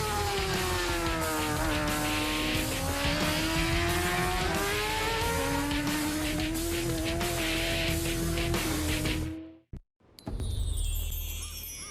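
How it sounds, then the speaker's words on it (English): A loud new Kawasaki engine starts up, roaring and revving continuously, its pitch climbing and dipping, then cuts out abruptly before the noise returns. "they stop to celebrate their work with what they call a new engine starting ceremony"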